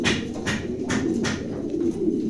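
Two male pigeons coo in low, throaty murmurs that roll on steadily beneath brief brighter rustles and flutters, close and fairly loud with no voices.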